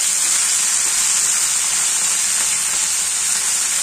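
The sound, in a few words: fenugreek leaves added to hot tempering in a kadai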